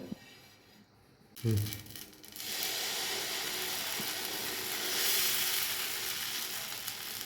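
Spongy dosa batter poured onto an oiled griddle: a thump and scrape, then a bright sizzle that swells and holds steady, strong and close throughout.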